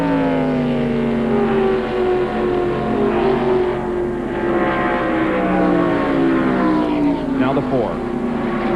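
A No. 24 stock race car at the 1995 Daytona Pepsi 400 roars steadily and loudly, its engine tone sweeping in pitch as it passes, with commentary running underneath.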